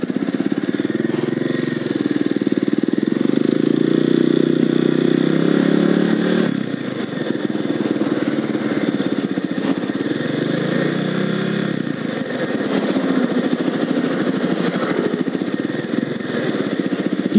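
A Kawasaki Estrella 250 motorcycle sits idling, its engine putting out a steady, throbbing rumble up close that shifts slightly in tone partway through, with no one talking.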